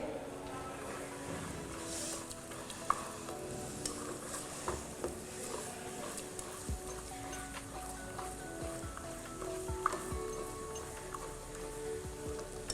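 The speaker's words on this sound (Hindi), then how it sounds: "इस प्याज को हम सौते करेंगे गोल्डन होने तक" Onions sauté with ginger and garlic over raised heat for butter chicken. A faint, even hiss like light rain carries a few soft utensil taps and clicks, with no talk.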